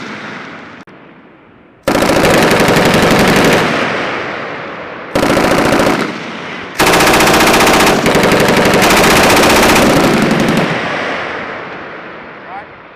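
M240B machine gun fired by U.S. Marines on a range, long loud sustained bursts of rapid automatic fire separated by short pauses, each burst ringing off into a fading echo.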